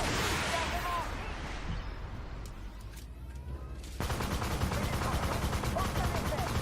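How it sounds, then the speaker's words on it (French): Rapid cannon fire from an XM800T light tank in the game Armored Warfare, a dense barrage of sharp blasts that starts loud, eases back, then surges again into continuous heavy firing. "le son du canon assez rapide est vraiment meilleur."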